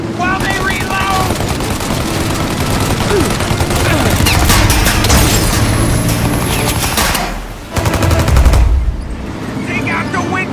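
Sustained gunfire in a shootout in Mafia Definitive Edition, with dense rapid volleys and machine-gun bursts that keep going throughout, briefly dipping before another loud burst, while a voice shouts over it.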